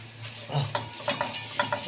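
Close stirring of onions frying with sugar in a pan, a low sizzle under several scraping, clinking strokes of a utensil against the pan at an uneven pace.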